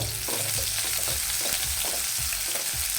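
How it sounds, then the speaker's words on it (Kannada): Chopped native garlic and a small onion frying in a pan, a dense continuous sizzle with stirring scrapes running through, close and loud with no talking. "ಅಂದರೆ ಕಲರ್ ಚೇಂಜ್ ಆಗೋವರೆಗೂ ಹುರ್ಕೊಳ್ಳೋಣ."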